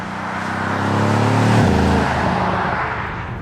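A Mercedes-AMG GLC 63 S SUV accelerates hard on a motorway, a loud broad engine and road roar that rises and shifts in pitch, heard from inside.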